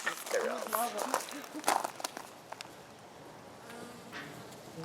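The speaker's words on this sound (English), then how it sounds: "They're beloved by bees right now." Bees buzz close by in brief bursts in an Arizona backyard garden, mixed with rustling and soft movement; a voice murmurs faintly in the background.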